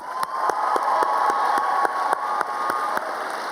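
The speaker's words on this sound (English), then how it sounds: "let's give them a round of applause" A large crowd at a commencement ceremony applauds and cheers the graduating class of 2019, a sustained roar of clapping and whoops, while sharp, evenly spaced clicks or taps sound over it.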